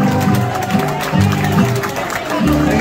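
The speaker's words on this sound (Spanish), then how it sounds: "¡Fuerte el aplauso!" An audience applauds and cheers for a school dance group at a public performance, a dense, steady crowd roar of clapping with a rhythmic, pulsing music or chant underneath throughout.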